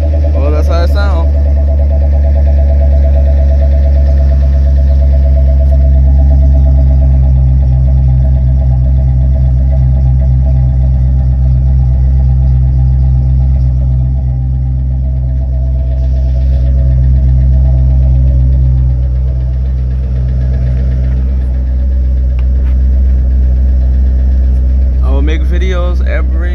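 A 2004 Ford Mustang Mach 1 V8 idles after a cold start, a loud, steady low rumble that holds for the whole stretch, with brief revs or clatter near the start and end and a voice talking over it.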